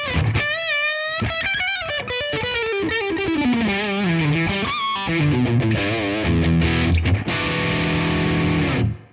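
Electric guitar through the OD4 overdrive amp model on a Tonex unit, a loud distorted tone sustaining and sliding through a melodic phrase, then a ringing chord held until it cuts off.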